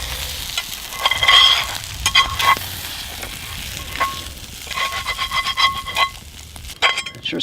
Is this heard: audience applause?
no